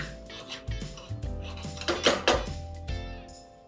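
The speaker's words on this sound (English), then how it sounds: "Keep stirring well." A spoon scrapes and clanks against a pot of paneer makhani gravy thickened with khoya, giving a string of close, irregular metallic knocks and scrapes over a steady low kitchen hum.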